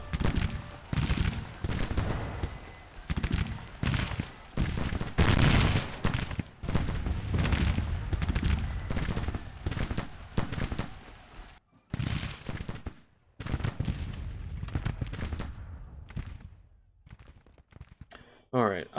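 Long-range musket volleys and artillery in a Civil War battle game, dense rolling crackle of rifle fire with heavy booms, bursting in waves with brief gaps, while someone talks over the gunfire.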